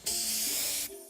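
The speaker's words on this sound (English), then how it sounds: "One spray to victory, Fluffy Tail Hairspray." Hairspray in a video game is released in one short, loud, steady hiss that lasts nearly a second before cutting off abruptly.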